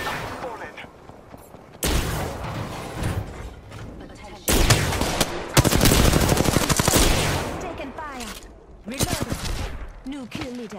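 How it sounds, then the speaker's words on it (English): Automatic gunfire in the battle royale game Apex Legends, bursts of rapid shots coming in loud waves with brief pauses, mixed with game sound effects and voice lines. "I am taking fire."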